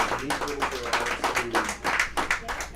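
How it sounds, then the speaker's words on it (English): Spectators at a junior curling bonspiel clapping in a steady patter of irregular claps, moderately close, with voices chattering around it throughout. "You can hear the clapping in there."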